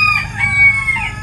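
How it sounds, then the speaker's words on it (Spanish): Hens cluck softly to newly hatched chicks to call them to water, a close, steady run of low clucks with faint high cheeping over the top, and no talking. "las gallinas les hablan a los pollitos también para que tomen agua"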